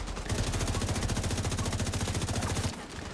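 Sniper turrets fire in The Division 2 as a rapid, even burst of loud gunshots lasting over two seconds, then cutting off abruptly.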